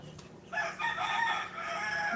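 A rooster crows once, a clear drawn-out call at moderate distance over quiet outdoor background.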